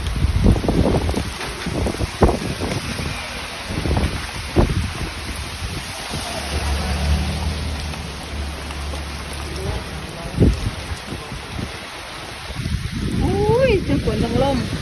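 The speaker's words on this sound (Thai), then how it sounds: "โอ้ยทั้งฝนทั้งลมทั้งฝนทั้งลมทั้งฟ้าห้องมันจะยานแท้เนาะบ้านเฮาเอง" A strong wind and rain storm at Ban Muang in Nong Han district roars with constant rushing rain and gusty wind buffeting the microphone, while a person speaks over it throughout.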